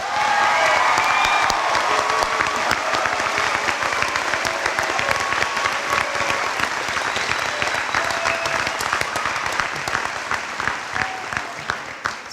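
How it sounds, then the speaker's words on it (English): Loud, dense applause from a high school graduation audience honoring the senior class, continuous many-handed clapping from start to finish with faint cheers mixed in, easing only slightly at the end. "Please give them your applause."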